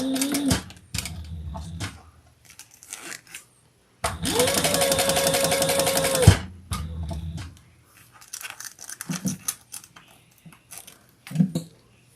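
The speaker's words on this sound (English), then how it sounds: "Now we're going to sew these together at the seam allowance in the pattern." A sewing machine stitches pieces together along the seam allowance in one steady, close burst of about two seconds, with quieter handling noises and short bits of talk before and after.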